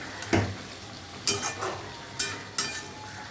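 Eggplant dropped into a pan of frying fish curry with whole chillies, giving a steady oily sizzle broken by a few sharp bursts and scraping stirs, close and fairly loud with no talking.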